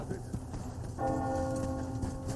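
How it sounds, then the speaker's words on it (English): A bell in Metro Exodus rings out with a sustained, resonant tone that swells and lingers at moderate distance over a busy ambient background. "Hear that bell?"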